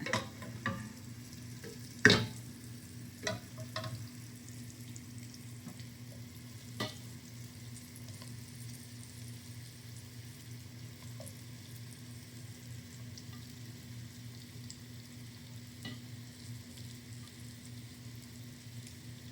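Tofu fries in oil in a pan with a steady soft sizzle throughout, broken by a few sharp clacks and stirring knocks near the start, no voices heard.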